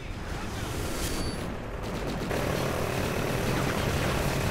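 A military helicopter flies overhead in the Call of Duty Ghosts video game, a loud continuous rotor and engine roar filling the whole stretch under battle noise.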